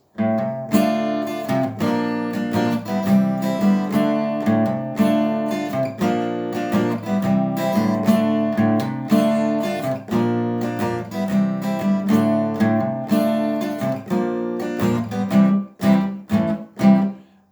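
An acoustic guitar riff played steadily throughout, with strummed chords and picked notes in a driving, continuous rhythm, close and fairly loud, no voices.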